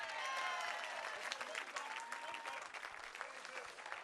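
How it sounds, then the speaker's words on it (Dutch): A festival crowd at a Liberation Day stage in Leeuwarden claps steadily, a dense wash of handclaps at moderate distance that holds level throughout, with faint voices mixed in. "Nog hier een keer een applaus toch?"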